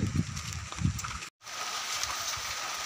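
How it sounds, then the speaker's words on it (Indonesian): Rain falling outdoors during a kite-flying outing, a steady, fine hiss of drops with some low rumbling at the start and a brief cut midway. "hujan bang. Hujan. Hujan."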